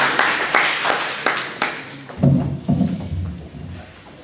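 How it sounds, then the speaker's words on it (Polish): Clapping from an audience at a Kashubian and Kociewie folk storytellers' contest, a burst of quick hand claps that fades and gives way to low thuds and murmuring. "To jest Mateusz, proszę o brawa, bo on jest porządny do was."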